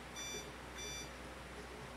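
An EMF meter gives short, faint electronic beeps, two bursts spaced about half a second apart over a low steady hum in a quiet room.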